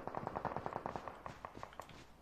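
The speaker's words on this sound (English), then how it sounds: "I hear gunshots around this area." Rapid bursts of gunfire from the Call of Duty Mobile video game, a fast string of sharp, evenly spaced shots over about two seconds, fairly loud and without any talking.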